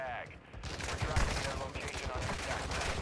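Gunfire from a video game, with a sniper among the enemies, rattling as quick bursts of shots at moderate distance, fairly quiet under a busy mix of game noise.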